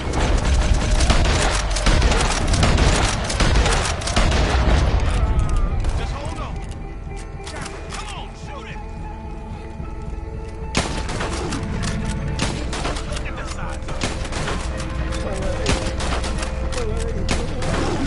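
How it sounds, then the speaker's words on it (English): Gunfire in a PS4 action game: dense, loud bursts of rapid shots at first, then scattered shots and mechanical clatter under ongoing game sound. People talk over the fighting. "Keep shooting."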